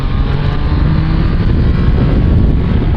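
A loud motorcycle engine, a Triumph Tiger Sport 660 or Honda CB650R, roars steadily at high revs, with rushing wind noise and no talking.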